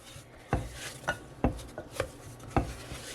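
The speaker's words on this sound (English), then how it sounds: "I like to use the ball of dough to unstick that" A ball of dough is pressed and dragged around a bowl to pick up leftover flour, giving a series of soft, dull thumps and brief scuffs at an uneven pace, close by and with no talking.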